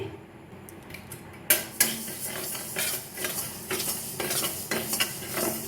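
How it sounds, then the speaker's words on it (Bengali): Moong dal rattles and scrapes in a wok as it roasts, with metal spatula clinks over a light sizzle, steady and close. "ভাজার জন্য কড়াই বসিয়েছি মুগ ডালটা ভেজে নিচ্ছি"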